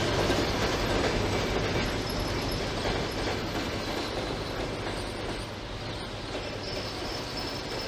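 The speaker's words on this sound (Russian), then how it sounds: "фирменный поезд номер 19 с сообщением Ростов, Москва прибыл на первый путь." A simulated passenger express, No. 19 from Rostov to Moscow, arrives at Kazansky station in Trainz. Loud, continuous rolling rumble and wheel clatter slowly ease in level as it pulls in, with a faint squeal.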